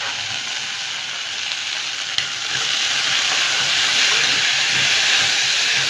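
Green beans and garlic sauté in a hot pan with a steady, loud sizzle and hiss that holds for about six seconds, swelling slightly toward the end with a brief clink near the middle.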